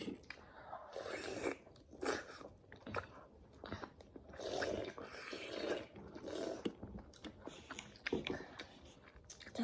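Close, quiet crunching and chewing of consommé-seasoned Korean fried chicken during a mukbang, with repeated crisp bites and wet mastication in an irregular rhythm.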